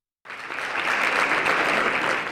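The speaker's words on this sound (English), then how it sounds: "There was strong applause from scientists here in Paris as this key report on the state of nature was presented." Strong, sustained applause from a hall of scientists in Paris as a major report on the state of nature is presented, dense and even clapping that starts abruptly and carries on throughout.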